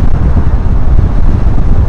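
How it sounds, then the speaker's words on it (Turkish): Strong wind buffets the microphone on a motorcycle ride by a delivery courier, a loud, continuous low roar and rumble with no speech. "Abi bu ne rüzgar ya"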